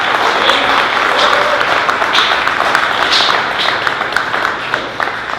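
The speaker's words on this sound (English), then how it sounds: "So big round of applause for that." Audience applause at a festival Q&A with a robotic circus cast, dense steady clapping that fills the whole stretch, loud and continuous, with a few voices faintly mixed in beneath.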